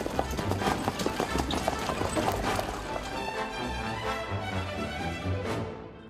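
Horses trot in a carriage-driving competition, their hooves clip-clopping in a quick, steady rhythm on the ground, close and fairly loud, with a faint murmur in the background.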